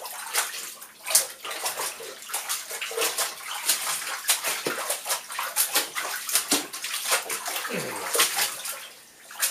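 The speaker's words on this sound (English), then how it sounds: "Clothes are getting clean. I gotta wring them out." Clothes are washed by hand in a tub of water and wrung out, with repeated sloshing, splashing and dripping in close, irregular bursts and no talking.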